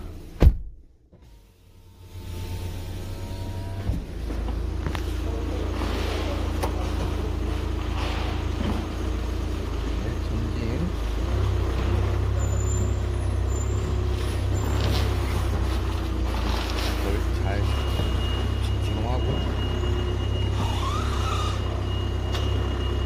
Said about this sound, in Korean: 차량 주행 한번 해보겠습니다.